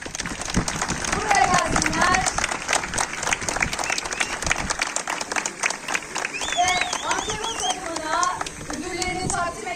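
An audience at the TEKNOFEST unmanned ground vehicle competition award ceremony in Tekirdağ claps loudly and steadily for about ten seconds, with scattered cheers and whistles over the crowd noise.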